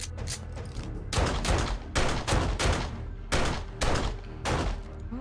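Gunfire in 7 Days to Die, a series of loud, evenly spaced single shots, about a dozen sharp blasts with short pauses, close and clear over a low background hum.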